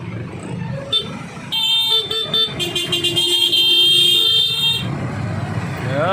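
Car and truck horns honk repeatedly in a traffic jam, several overlapping long blasts and shorter toots close by, over the low rumble of idling vehicles.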